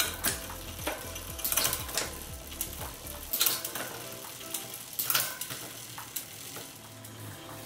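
Shimano 12-speed road bike rear derailleur shifting quickly across gears, heard as a run of sharp mechanical clicks and ratcheting chain ticks, with clustered bursts near the start, middle and end.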